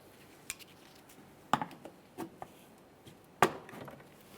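A plastic push clip on a 2015-2020 Ford F-150 front inner fender liner is pressed in and pried out with a trim tool, giving a few sharp, faint clicks and snaps with quiet handling noise between them.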